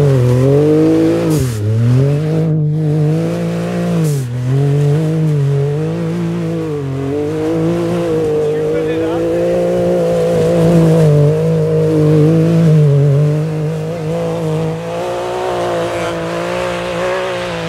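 A Can-Am Maverick X3 side-by-side runs hard through snow, its engine droning steadily with rising and falling revs, loud and close and nearly continuous, with brief dips as the throttle shifts.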